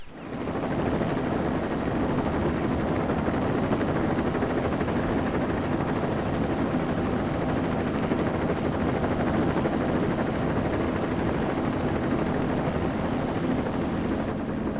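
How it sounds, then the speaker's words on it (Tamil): A loud, steady helicopter rotor drone with a constant engine roar, holding at the same level for the whole stretch as if hovering close by. "ஹெலிகாப்டர் வந்துருச்சு"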